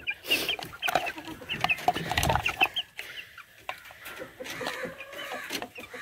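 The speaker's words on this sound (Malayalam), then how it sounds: "ഇത് കുറച്ച് വെള്ള കോഴിക്കുട്ടികളാണ്" Young white chickens in a backyard coop clucking in short repeated bursts, with a few louder calls standing out over faint background rustle; no talk.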